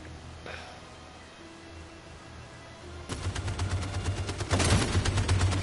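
Gunfire in the video game Detroit: Become Human, starting with a brief shot, then a dense burst of rapid automatic fire that swells louder and more intense toward the end.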